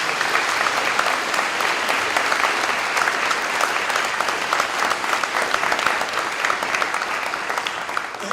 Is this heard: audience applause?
yes